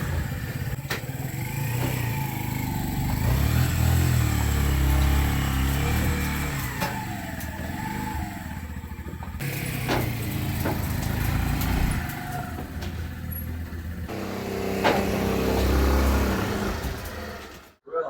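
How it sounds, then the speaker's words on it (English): Training motorcycles, three manuals and one automatic, rumble and rev while being loaded onto a van, with engine drone, clattering metal and knocks continuing over a long stretch at close range. "So that's all the bikes loaded up onto the van"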